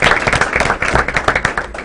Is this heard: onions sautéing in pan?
no